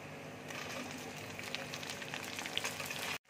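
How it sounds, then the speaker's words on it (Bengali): Tomatoes sizzle and fry in hot white cooking oil with sliced onions already in the pan for navratan korma, a steady close crackle with light stirring clicks that runs unbroken for about three seconds before stopping abruptly. "এবার আমি টমেটো দিয়ে দিচ্ছি"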